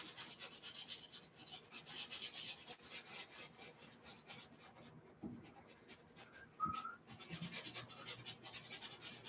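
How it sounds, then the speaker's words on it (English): A paintbrush scrubs paint onto canvas in steady, close rasping strokes, soft and continuous with short pauses, while painting low-lying clouds. "A lot of scrubbing today."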